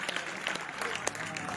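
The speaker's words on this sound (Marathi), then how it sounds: "जोरदार टाळ्या वाजवायच्या आहेत." An audience at a school state sports day event, where a wrestling bout has just been won, claps in steady, dense applause throughout a short stretch.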